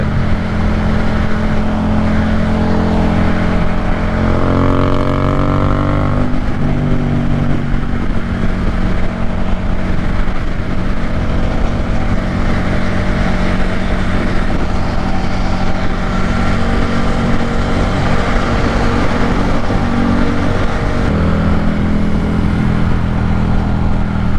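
A Yamaha FZ-07 motorcycle cruises along with a continuous engine drone and wind rush, its pitch shifting as the rider changes gears and speed, loud and close throughout.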